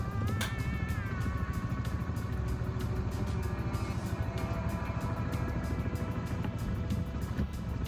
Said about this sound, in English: starting the bike up and getting ready to pull away from the petrol station